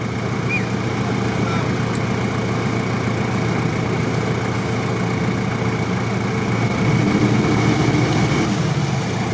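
A Lexus 3UZ V8 mounted transversely in an off-road UAZ runs steadily on a wet off-road track, a continuous low engine drone with constant hum, fairly loud and unchanging throughout, no talk.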